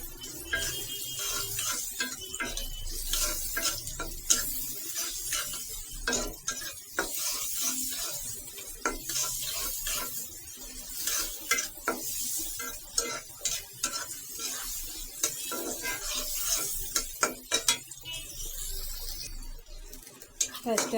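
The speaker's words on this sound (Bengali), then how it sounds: "পেঁয়াজটা আমার দেখুন ভাজি হয়েছে।" Onion frying in a pan while being stirred, a continuous sizzle broken by frequent scraping and clinking of a spatula on metal, with a voice talking over it at times.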